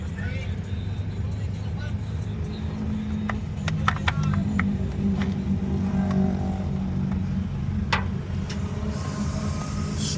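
A Suzuki Spazia Turbo engine idles steadily with a constant low rumble and hum, close and fairly loud, with faint clicks and background noise over the top.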